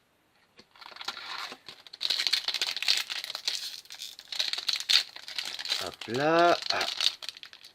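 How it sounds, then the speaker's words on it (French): A Yu-Gi-Oh! booster pack's foil wrapper crinkles and tears open close by, in steady rustling bursts with a brief sharp rip near the end, while a voice speaks over it. "Le booster ne veut pas s'ouvrir."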